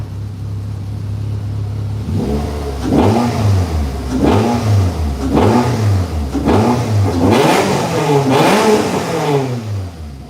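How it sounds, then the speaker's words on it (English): A Mazda NC Miata engine revs hard several times in a row, each burst rising and falling with a loud, throaty exhaust roar between idle dips. "The exhaust setup, I'm gonna rev it a couple times."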